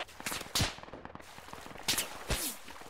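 Bursts of machine gun fire in a video game, a few loud, sharp volleys spaced about a second apart over a busier rattle of lighter shots. No one talks.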